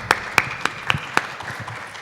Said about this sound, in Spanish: Un aplauso para la doctora, por favor.